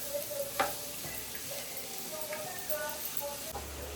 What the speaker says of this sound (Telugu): గోల్డ్ కలర్ వచ్చేలాగా మంచిగా ఇట్లా వేయించుకోవాలి. మాడిపోకుండా కలుపుతుండాలి.